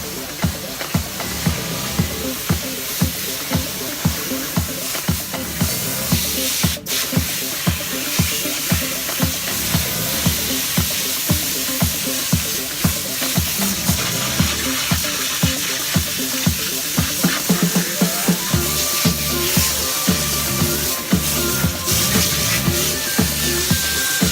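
Water hosed over a scrubbed teak boat deck, a steady, dense hiss of spray with rhythmic splashing pulses throughout, close and continuous, no voices.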